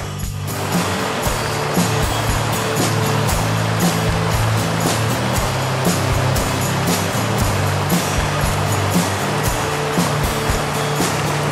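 A small creek on the Yuba River spills over a little waterfall, a steady broadband rush of falling water that stays loud and continuous throughout with no talking.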